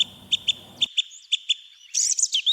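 A Eurasian blackbird gives a run of clear, repeated whistled notes at close range, then a brighter fluted warble toward the end, with no other sounds around it.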